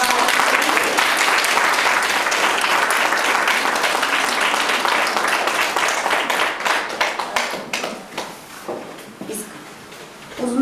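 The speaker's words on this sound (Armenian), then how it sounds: "ծափահարենք" Audience applause after thanks at a children's event, a dense sustained clapping that stays loud for about seven seconds, then thins into scattered claps and fades before a brief final burst.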